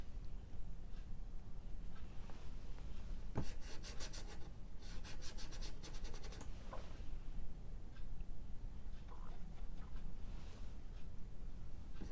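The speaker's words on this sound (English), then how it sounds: "Rub a little bit of that color up into those distant trees." Paint is rubbed onto a canvas in soft, steady scrubbing strokes while working on a farm landscape, with a brief stretch of harder rasping brushwork in the middle, close and fairly quiet.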